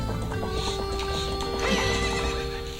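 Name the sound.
horse neighing in video game Zelda Ocarina of Time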